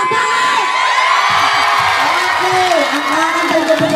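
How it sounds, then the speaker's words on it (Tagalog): A club crowd at a live Pride Month comedy show cheers, whoops and shouts, the noise loud and continuous. Voices yell over the crowd throughout, with clapping mixed in. "Nasaan ang hiyaw at palakpakan?"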